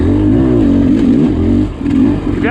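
Beta Xtrainer dirt bike engine droning loud and close while riding faster singletrack, its pitch rising and falling steadily with throttle changes and a brief dip near the end.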